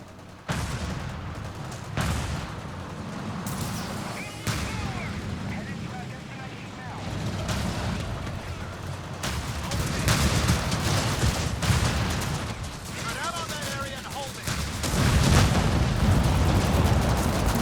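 Airstrike explosions and gunfire in the World War II strategy game Company of Heroes 3, several heavy blasts and rumbling battle noise across the span, with someone talking over the combat.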